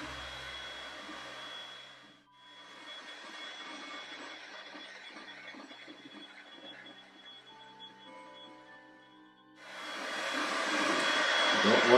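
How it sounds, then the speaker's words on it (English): A heat gun blows hot air over resin with a fairly quiet, steady blowing hiss. It dips briefly near the start and grows louder and closer toward the end. "do first round with a heat gun, just to soften up"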